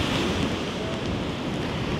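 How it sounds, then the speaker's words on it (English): Waves breaking on a shore at a very high tide, with rain falling, make a steady, dense wash of broadband noise that holds unbroken for two seconds, close and loud, with no voices. "You can have waves coming over to wet you or rain coming down to wet you."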